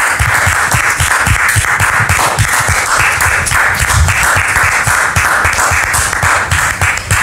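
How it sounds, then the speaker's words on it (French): A studio audience at a French talk show breaks into loud, sustained applause welcoming Dame Josiane, a dense wash of clapping that holds steady throughout with no voices above it. "Très cher public, merci de recevoir Dame Josiane sous vos applaudissements."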